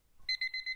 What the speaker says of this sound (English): There the timer goes. Hear it?